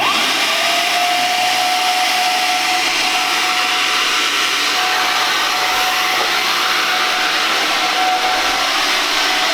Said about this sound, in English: Drill brush just makes it easier, to save you time and energy. So I will go ahead and get this fired up. Turn the motor.